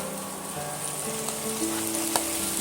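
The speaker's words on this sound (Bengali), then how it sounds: "এবার আমি আগে থেকে যে আলুগুলো ভেজে রেখেছিলাম সেই আলুগুলো আমি এর মধ্যে দিয়ে দেবো" Pre-fried potatoes going into hot oil and spiced masala in a pan for aloo katli, a steady close sizzle and crackle with faint clinks of utensils, no talking.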